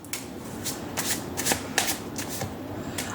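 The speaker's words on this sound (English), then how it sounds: "Let me put down your other cards." Tarot cards are shuffled and laid down close by. A run of crisp riffles and soft slaps repeats roughly every half second over a light steady hiss, with no talking.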